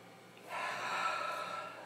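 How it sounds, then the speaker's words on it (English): A person draws a single long sniff over a glass of chocolate mead, a soft breathy rush starting after a short pause and sustained close to the nose. "clicked on this video to watch somebody sniff a glass"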